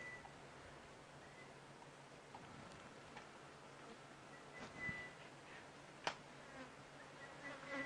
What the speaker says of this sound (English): Can you hear the flies as well as they're buzzing around?